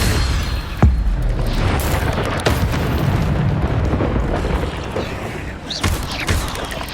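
Incendio fire spell cast in Hogwarts Legacy, a dense roaring burst of flame with booming impacts over a continuous loud rumble, sharp cracks recurring through it.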